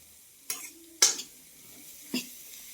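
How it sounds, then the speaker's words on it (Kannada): Tomatoes tipped into a frying pan and stirred, heard as three sharp separate clatters and scrapes against the pan over a quiet low sizzle, close and with no talking. "ಇವಾಗ ಟೊಮೆಟೊ ಹಾಕ್ತಾ ಇದ್ದೀನಿ"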